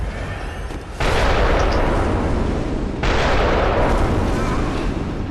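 In the Bloodborne video game, two heavy booming gun blasts go off about two seconds apart, each followed by a loud, rumbling sustained roar.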